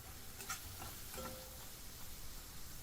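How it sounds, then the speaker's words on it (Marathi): Garlic is sautéed with turmeric, onion-garlic masala and red chilli powder, giving a faint, close sizzle along with soft stirring scrapes of a spoon in the pan. "लसूण परतल्यावर हळद पाव छोटा चमचा कांदा लसूण मसाला एक मोठा चमचा लाल तिखट एक छोटा चमचा परतून घेऊया"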